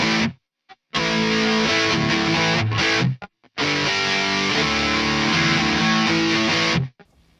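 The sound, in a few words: electric guitar crunch tone through Neural DSP Mesa Boogie Mark IIC+ plug-in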